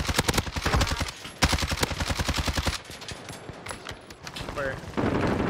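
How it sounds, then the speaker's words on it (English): Rapid bursts of automatic gunfire in the Warzone video game, loud, dense strings of shots with brief pauses and a player's voice talking over the shooting. "Shots."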